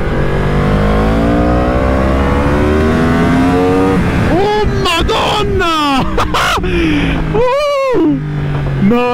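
A Yamaha R1 sport motorcycle of about 200 horsepower, its engine droning steadily and then revving hard in rising and falling bursts, close and loud, with excited shouting mixed in near the end.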